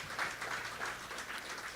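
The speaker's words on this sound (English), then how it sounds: "Give her a round of applause, please." Faint, distant applause from an audience at a Ganesh Utsav festival celebration, soft steady clapping heard from afar without speech.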